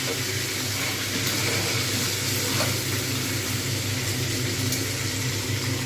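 Rohu fish head frying in oil over a medium-high flame, a steady loud sizzle with occasional small pops and crackles throughout.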